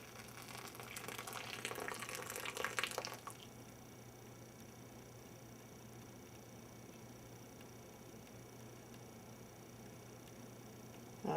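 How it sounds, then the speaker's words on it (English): Hot water pours into a teapot with a bright splashing gush for about three seconds, then stops, leaving a quiet steady hum. "we're going to get our hot water and pour it into the teapot"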